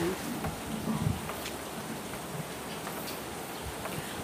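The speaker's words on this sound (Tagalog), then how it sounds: "ayan, umuulan." Steady rain falls, a dense continuous hiss with scattered drips and ticks, fairly close and with no one talking.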